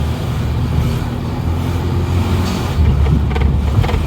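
A 1996 Rover Mini with a 1.3-litre engine and automatic gearbox drives along with a steady, loud cabin engine drone. The tone shifts slightly partway through, and wind rumble sits underneath.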